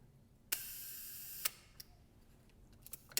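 Large format camera shutter on a 450 mm lens firing a one-second exposure: a sharp click opens it, a second click closes it about a second later, then a few faint mechanical ticks follow in a quiet room.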